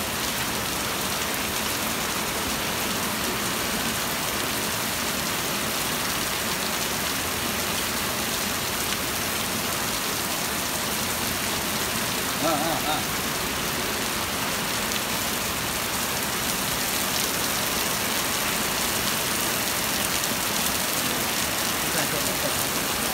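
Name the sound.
heavy rain falling during a hailstorm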